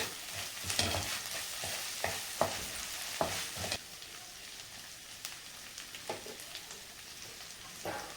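A bread omelette fries in a pan with tomato ketchup added, giving a soft sizzle broken by several sharp spatula scrapes and taps against the pan, close and fairly loud, with no talking.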